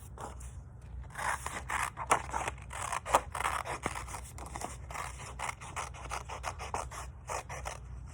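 Scissors cutting through paper, a run of close, rasping snips and crisp crunching cuts repeating unevenly over several seconds, with no voices.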